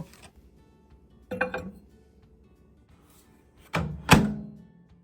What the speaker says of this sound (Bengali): এবার আমি বাটিটিকে মাইক্রোওয়েভ ওভেনে দিয়ে দেব